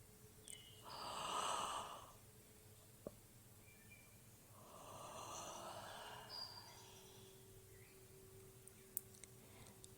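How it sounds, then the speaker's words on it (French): A yawn in a calm bedtime story for children: two slow, breathy swells a few seconds apart, soft and close, with small clicks and sighing breath between them. "Nika se met à bâiller."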